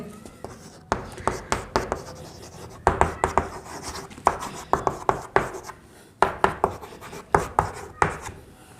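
Writing on a board during a physics lesson on acceleration units: a steady run of sharp, scratchy strokes and taps in quick bursts, close and clear, with short pauses between groups.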